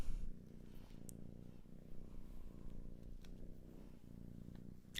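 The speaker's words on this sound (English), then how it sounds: "You can hear her purring." A cat purrs close to the microphone in a steady, low rumbling rhythm of soft pulses, continuous and fairly quiet, with faint light taps over it.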